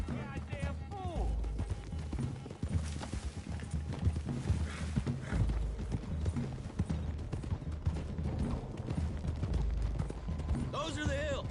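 Horses gallop in Red Dead Redemption 2, hooves thudding in a steady rapid rhythm over ambient game sound, with characters talking throughout and a brief whinny-like cry near the end.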